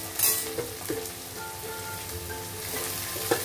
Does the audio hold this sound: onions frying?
yes